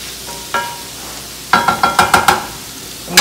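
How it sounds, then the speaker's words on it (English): Onions and cauliflower rice are stirred in a frying pan, with a soft sizzle underneath a quick run of close, sharp scraping and tapping strokes. "I'm just going to throw them in, stir them up, and let them cook along with the rice for another 2 to 3 minutes."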